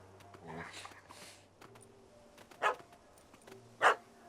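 Two sharp barks from a dog at a tree in The Witcher 3, spaced about a second apart and standing out over a low game-world hum and a few earlier vocal sounds.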